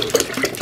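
Tap water running into a waterer for quail, a loud close gushing splash in one brief burst.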